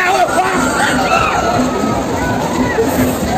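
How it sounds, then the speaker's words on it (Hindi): Dense festival crowd chatter at a Durga Puja celebration in a town, a steady close-up babble of many voices. "इतना ज़्यादा भीड़ हो रहा है हमारे टाउन में अभी"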